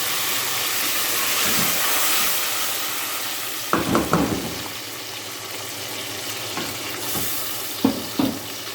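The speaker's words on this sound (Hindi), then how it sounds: "अब हम इसमें टमाटर का जो पेस्ट बनाया था वो डाल रहे हैं।" Steady loud sizzling and hissing as tomato paste is added to frying onions in a hot pan, with a few scraping clatters of a utensil stirring partway through.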